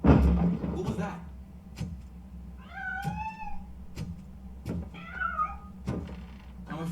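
A cat meows twice inside the Robocop game, clear rising-and-falling cries set among thumps and low background hum, with a voice speaking briefly at the start.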